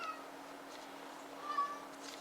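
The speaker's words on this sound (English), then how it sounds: "Oh, kitty cat wants in." A cat meows faintly to be let in near a workbench in a machining shop, a couple of brief, thin calls over steady low shop hum.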